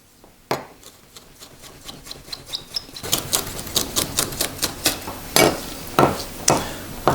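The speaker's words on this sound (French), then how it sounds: "Maintenant on va y aller tout doucement sur la découpe." A knife slowly slicing through a pizza baguette topped with tomato sauce, giving a run of crisp rasping crunches, one after another, close and clear with no talk.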